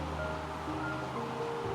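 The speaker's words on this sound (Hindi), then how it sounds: "गंगा नदी का प्रवाह," Fast, swollen Ganges river in rainy-season flood at Haridwar, a steady broadband rush of flowing water with a low rumble, continuous and fairly loud throughout with no voices.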